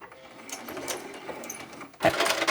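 A sewing machine makes a brief back stitch on a fabric bin made from fat quarters, with soft mechanical ticks leading into a sudden louder whir near the end.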